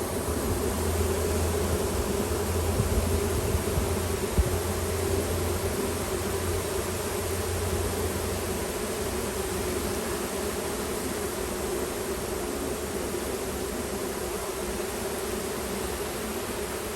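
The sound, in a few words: honey bees buzzing at new hive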